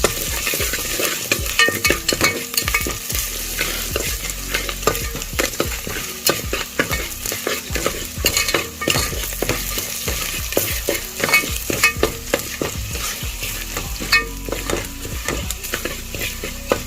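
Chilli powder frying with a steady sizzle in a pan for dhal sambar, a spoon scraping and stirring in irregular strokes close up throughout.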